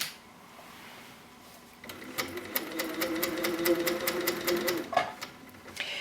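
HQ Sweet Sixteen sewing machine stitching while quilting with rulers around flower outlines, a quiet steady rapid needle patter starting after a brief hush and running continuously, close by.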